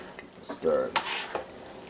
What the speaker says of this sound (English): We're stirring it up there really good.